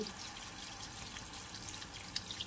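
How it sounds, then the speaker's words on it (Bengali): Water poured into a pot of Bengali-style tangra fish curry, a faint steady trickle and splash with small drips, quiet and close, no voices. "তারপরে দিয়ে দেবো পরিমাণ মতো জল।"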